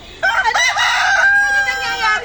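A rooster crows loudly and close by, one long drawn-out cock-a-doodle-doo that fills most of the moment, with chickens clucking faintly around it at a backyard pen.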